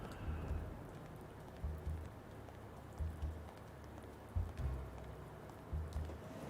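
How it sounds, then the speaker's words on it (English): Thunderstorm with steady rain in the video game Blacksad: Under the Skin, a soft hiss of rainfall under repeated low rumbling thunder swells, quiet and distant, with no voices. "That thunder does sound beautiful, though. Like I said, I do like a good thunderstorm."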